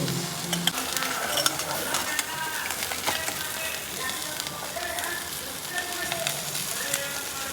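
An egg cooking in a hot pan gives off a steady, close sizzle with crackling spatter that runs unbroken for the whole stretch, while a voice speaks faintly in the background.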